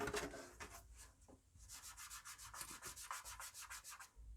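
Quiet, rapid back-and-forth rubbing with a gritty, sandpaper-like texture as polish is rubbed on a Mercedes W220 headlight lens, close up, in quick regular strokes that pause briefly before resuming.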